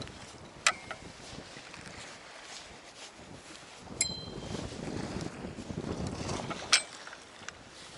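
Strong wind on the Black Sea during winter fishing roars and buffets the microphone continuously, with a few sharp metallic clinks rising above the gusts.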